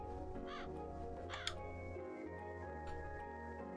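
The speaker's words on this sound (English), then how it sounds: "can we adopt the..." Crow cawing in the video game Calico, a few rasping calls rising over steady game background music, with no talk.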